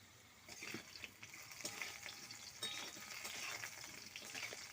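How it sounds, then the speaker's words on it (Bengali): Potatoes fry in oil in a pan for rui fish curry, giving a soft, steady sizzling hiss with faint stirring scrapes, quiet and continuous throughout. "এদিকে আমি আলুটা ভাজা বসিয়ে দিয়েছি"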